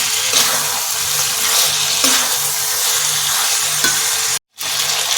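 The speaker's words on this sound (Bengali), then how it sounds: "চিকেন মশলা, গরম মশলা দেবার পর এই চিকেনটা আরেকটু ভালো করে কষিয়ে নেব।" Chicken with garam masala and chicken masala stir-fries for Bengali chicken kosha, a loud, continuous close sizzle with stirring scrapes, briefly cut off near the end.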